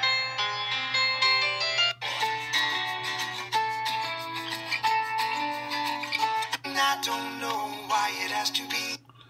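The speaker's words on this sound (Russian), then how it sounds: "Вот такой рингтончик." A downloaded ringtone plays from a Xiaomi Redmi 4 Pro Prime smartphone, a bright melodic tune with layered tones and a steady low hum underneath, loud and continuous, with a brief drop before the melody picks up again.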